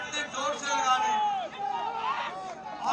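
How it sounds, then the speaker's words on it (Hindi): Crowd at a BJP public meeting addressed by JP Nadda, voices massed into a loud, continuous hubbub with swelling shouted phrases that suggest slogan chanting. "और नारे इतने जोर से लगा रहे हैं"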